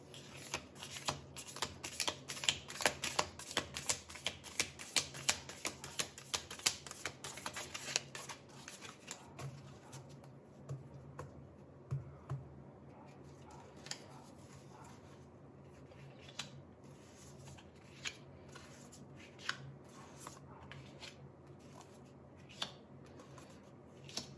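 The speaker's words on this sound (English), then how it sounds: "Let me shuffle the cards." Tarot cards are riffled and shuffled in quick rustling bursts, busy at first, then slowing to occasional soft snaps and slides in a quiet room.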